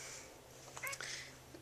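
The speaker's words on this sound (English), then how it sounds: "Here's my kitty cat." A pet cat at home lets out a couple of soft, brief meows, faint against a quiet room hum.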